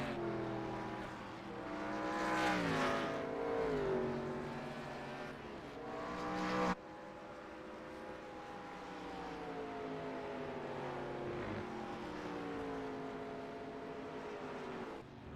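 Race cars at Watkins Glen in a Scrambler Series event, one car sliding sideways, their engines revving loudly with rising and falling pitch before an abrupt cut, then a steadier, sustained engine roar.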